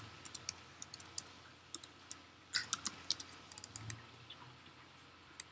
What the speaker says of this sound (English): You click portal to sign in.